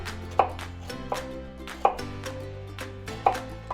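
Knife chopping an onion on a board, four distinct sharp cuts spaced about a second apart, close and clear over a low steady background hum.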